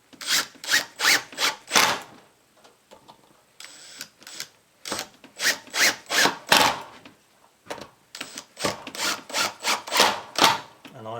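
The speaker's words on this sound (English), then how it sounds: "So I will line up this side first and screw it down." A wooden side being lined up and screwed onto a seed sieve frame with 40mm screws, giving bursts of rasping, grinding driver noise in quick runs separated by short pauses, loud and close.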